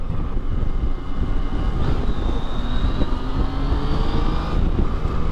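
A Yamaha MT-09 motorcycle in sport mode roars loudly up a motorway on-ramp, with a dense engine drone and heavy wind rush running throughout and a rising whine partway through.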